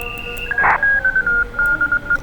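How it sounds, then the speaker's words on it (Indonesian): A computer sends data as bursts of electronic tones, starting with a steady hum, then a loud squeal and a rapid run of short, evenly paced beeps. "Ini suaranya komputer. Jadi kalau komputer lagi komunikasi kayak gini suaranya."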